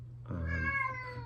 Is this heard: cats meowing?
yes